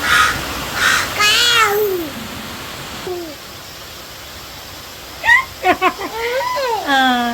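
A crow caws a few times nearby, sharp harsh calls in two bursts, with a person talking in between and afterward.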